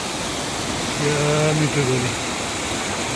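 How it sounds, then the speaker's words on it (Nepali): A small, pretty waterfall spilling from a little way up produces a steady, loud broadband rush of falling water, with a voice speaking briefly over it midway. "झर्ना एउटा सानो सुन्दर यो झर्ना चाहिँ अलिक मास्तिरबाट हाल्यो"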